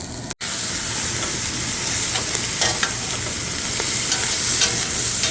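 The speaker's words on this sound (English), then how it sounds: "now we're just going to stir it up and saute it up" Ham with browned onions and garlic sizzles and fries steadily in a pan, about three pounds of it, with scraping stir strokes and occasional clinks over a constant loud hiss.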